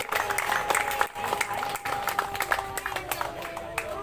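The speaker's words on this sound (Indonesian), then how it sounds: "Mana tepuk tangannya?" An audience claps for a contestant at a competition, with a steady patter of hand claps lasting a few seconds, a couple of short dips, and voices mixed in.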